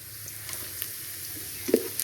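Onions cooking in a pot in a rural Kenyan village kitchen, a faint steady sizzle and hiss with a few soft pops and one brief louder crackle near the end, no voices.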